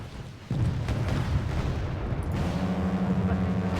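Weapons fire and a heavy sustained rumble of combat in the Wargame Red Dragon strategy game, with an abrupt loud boom starting the dense low roar and a steady tonal hum emerging toward the end.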